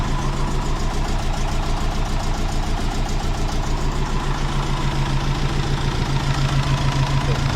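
A twin-turbo Subaru engine idles steadily and close, running lean with a possible air leak and the turbo overspinning; a constant low throbbing hum with a faint ticking knock runs throughout, with no voices.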